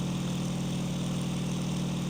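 A Bf-109K-4 fighter engine in the IL-2 Sturmovik flight game drones steadily at full speed at altitude, a constant dense roar with no breaks or voices.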